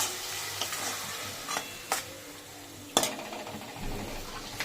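A paste of green chili, garlic and ginger fries in a pan with a steady sizzle, broken by a few crisp scrapes of a stirring spoon, close and fairly loud.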